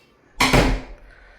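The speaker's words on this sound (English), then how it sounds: "another door we're going to close off." A door in a Myrtle Beach beach house swings shut with a single close, solid thud and a brief rattle that fades over about half a second. No one speaks.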